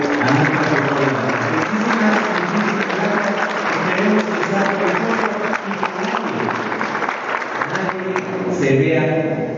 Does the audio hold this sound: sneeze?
no